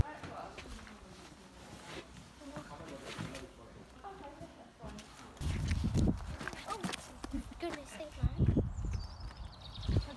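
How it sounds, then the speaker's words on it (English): Horse hooves clip-clopping outdoors in a few irregular thudding beats, with louder impacts toward the end under wind and handling noise. "Horsepower today from a motorbike to a horse."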